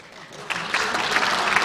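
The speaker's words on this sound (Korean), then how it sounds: "박수 치지 마세요." Applause in a parliamentary chamber during a party floor leader's address, clapping swelling up after a quiet start and continuing loud and dense to the end.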